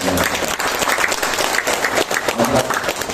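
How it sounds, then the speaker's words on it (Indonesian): An audience at an agricultural event in North Kalimantan applauds steadily and loudly for about three seconds, a dense continuous wash of many hands clapping. "Tepuk tangan untuk"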